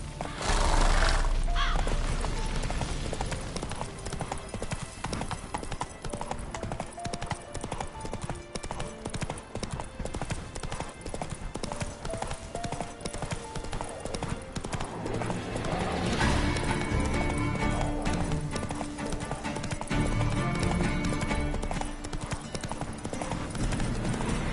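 A horse gallops in The Witcher 3 video game, its rhythmic hoofbeats pounding continuously and loudly with occasional whinnies and rushing game ambience throughout.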